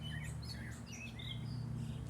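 Faint birds chirp and twitter in scattered short calls over a low steady background hum, somewhat distant, in a botanical garden in Pabianice.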